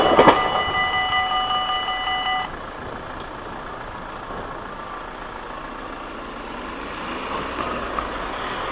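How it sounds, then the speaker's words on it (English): A train rumbles steadily past with a continuous rolling noise, while a crossing bell or warning tone rings briefly at the start. "There's coming the train."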